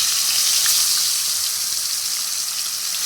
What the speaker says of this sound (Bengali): তেলটা গরম হয়ে গেছে, মাছটা এক এক করে ভেজে নেব।